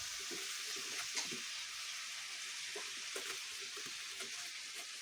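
Dal sizzling and bubbling in a pot on a stove, with a constant frying hiss and soft intermittent stirring clinks; steady and moderately close, no talking.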